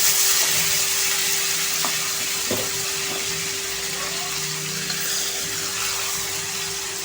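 Tomatoes dropped into a hot pan with curry leaves while making a black ghevda dal amti set off a steady broadband sizzle. The frying hiss runs continuously at moderate level throughout, with a few brief clicks and faint speech underneath.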